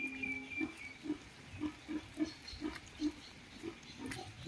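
Pigs on a farm hit by a windstorm grunt in a steady series of about nine short, low grunts at an even pace, fairly close, with no voices.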